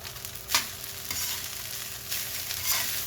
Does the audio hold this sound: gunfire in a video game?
no